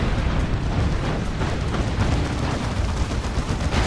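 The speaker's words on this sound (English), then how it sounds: "There's a rocket run." Rocket run barrage in the real-time strategy game Dawn of War 2, a dense continuous roar of explosions and rumbling blasts at steady loud volume throughout.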